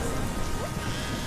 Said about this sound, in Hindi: पानी बरस रहा